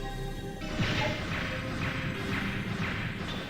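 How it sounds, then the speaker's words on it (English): Fiery underwater explosions in the video game Mega Man Legends 2 go off as a string of muffled bursts roughly every half second, over a steady rumbling game soundscape. "How is there fiery explosions underwater?"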